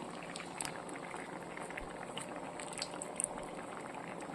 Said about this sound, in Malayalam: എല്ലാം നന്നായിട്ട് തിളച്ചിട്ടുണ്ട്.